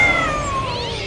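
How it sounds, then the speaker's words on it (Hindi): A cat lets out a single drawn-out meow with a falling pitch, loud and close, inside a bungalow. "जैसे दरवाजा खोला एक बिल्ली हम पर कूद पड़ी"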